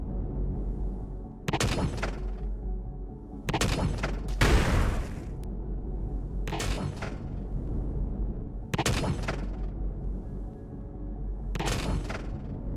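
Weapon fire at turrets in the space survival game Empyrion Galactic Survival, with about six separate bursts of booming shots spaced roughly two seconds apart over a quiet, low background hum.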